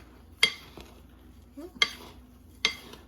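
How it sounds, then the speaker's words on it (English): Brown sugar crumb mixture being mixed in a bowl for strawberry rhubarb bars, giving three sharp scraping clinks spaced about a second apart with soft stirring between, close and fairly quiet. "We're going to mix this up really good"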